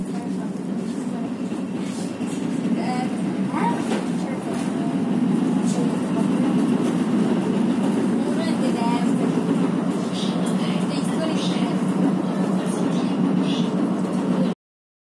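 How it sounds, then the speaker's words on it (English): Steady rumble of a tram in motion in Geneva, with rolling wheel and track noise throughout and faint clicks and voices in the background. "So now I'll get on a tram."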